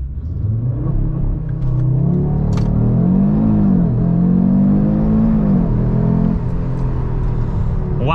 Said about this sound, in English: left foot on the brake, right on the throttle, release, and then we initiate launch control